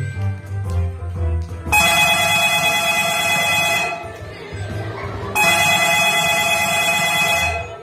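A telephone rings during a church puppet show, two long loud electronic ringing bursts separated by a short gap, with low murmuring and background sound from the show beneath.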